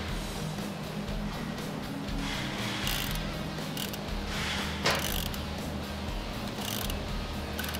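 An engine is turned over by hand during manual chain tensioner adjustment on a Twin Power setup, the chain running over its sprockets in a steady, low mechanical whirring and clicking with occasional sharper ticks.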